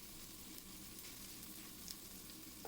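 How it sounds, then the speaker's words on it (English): Three pork chops pan-fry in a skillet on a stovetop, giving a steady, even crackling sizzle that stays low and constant throughout with no one talking. "So pork chop getting pan fried even."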